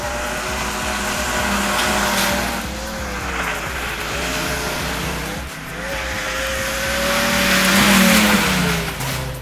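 Engine of a 1.8-litre 85 kW Opel Omega A being driven on a winter test drive, a steady loud drone with rising and falling revs and some tyre noise throughout, with no talk.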